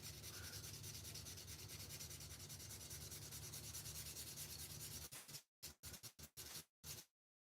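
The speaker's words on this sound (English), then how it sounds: "hand sanding and making a stem" Steady, hissing strokes of hand sanding on a tobacco pipe stem, continuous for about five seconds, then a few short, separate rubs before stopping; quiet and close.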